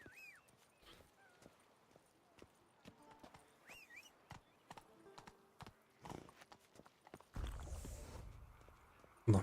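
Hooves clip-clop as a horse gallops in The Witcher 3, with a quick irregular rhythm that swells toward the end, mixed with snorts and a whinny.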